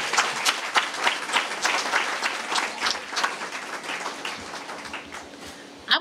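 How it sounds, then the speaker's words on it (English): Applause from an audience at a community meeting on child raising, many hands clapping with individual claps audible, strong at first and gradually tapering off, with no speech. "Can we give her another round of applause, please?"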